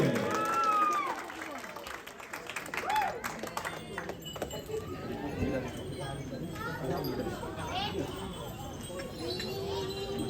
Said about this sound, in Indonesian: Mana tepuk tangannya untuk PDB?